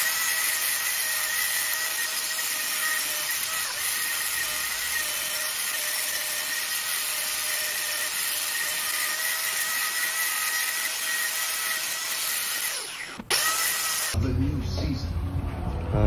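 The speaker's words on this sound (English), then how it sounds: "Now I have to get ready to bevel the ends" Power tool beveling the ends of a narrowed Impala rear axle housing, a steady, loud high-pitched whine held for about thirteen seconds before it cuts off abruptly.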